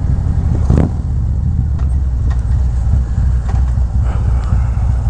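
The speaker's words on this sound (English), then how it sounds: "the bike runs really good for now" A Harley-Davidson Road Glide motorcycle engine rumbles on the move, a loud, continuous low drone with slight swells and faint passing noises on top.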